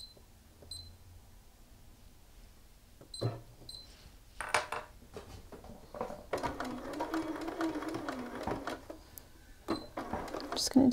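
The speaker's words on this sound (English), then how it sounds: "we are gonna stitch again, right along this line on the placket" A home sewing machine fitted with an edge stitch foot stitches along a shirt sleeve placket, with a few short clicks first and then a continuous whirring run in the second half while someone talks.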